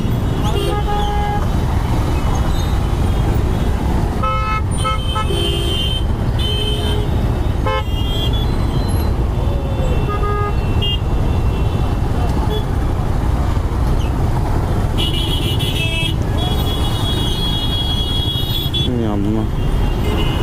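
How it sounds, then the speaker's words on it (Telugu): A jammed city street in Hyderabad at evening with no traffic police, loud constant engine and road noise and repeated short car and bike horn toots from several vehicles, heard close from a bike taxi with people talking. "ట్రాఫిక్ పోలీస్ లేనందుకు మొత్తం జామ్ అయిపోయింది"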